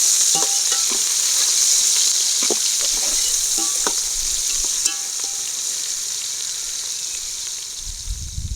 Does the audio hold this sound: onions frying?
yes